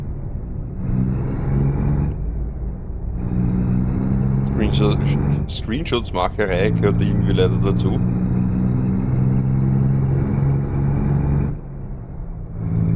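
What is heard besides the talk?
Kenworth truck engine shifting gears in American Truck Simulator video game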